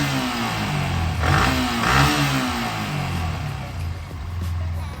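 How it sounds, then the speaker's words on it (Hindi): A Yamaha R15 V3 motorcycle engine with a faulty VVA valve revs up and down several times, a loud, steady mechanical drone with rising surges, close by and without talk. "एक बार RPM गाड़ी को रैप करके दिखाऊंगा"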